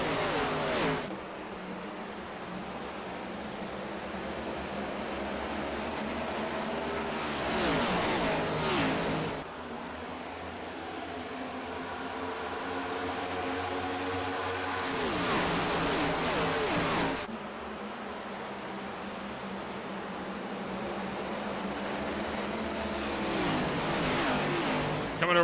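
Race cars in a sim racing game circle Homestead-Miami Speedway, their engines droning steadily and rising in repeated waves of acceleration as they pass, moderately loud and continuous, with no talking.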